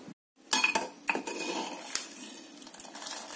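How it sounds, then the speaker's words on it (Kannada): Metal plate clanking onto a steel pot of chana dal on the stove, a few sharp clinks and rattles close by, followed by faint kitchen clatter, with no talking. "ಈಗ ಒಂದು ಪ್ಲೇಟ್ನ ಮುಚ್ಚಿ ಸ್ವಲ್ಪ ಕುದಿಯೋದಕ್ಕೆ ಬಿಡ್ತಾ ಇದ್ದೀನಿ."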